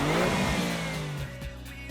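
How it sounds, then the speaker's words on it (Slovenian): An Alfa Romeo Giulia GTA engine revs loudly and close, its pitch falling steadily across two seconds as the revs drop off, with no talk over it. "Giulio GTA, po naše stroj, ki bo iz severne Italije odpihnil korono."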